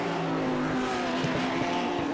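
A Porsche race car in iRacing at Indianapolis, with an engine drone that stays loud and steady throughout. The tone holds through a pass of another car during a virtual racing league finale, with no voices.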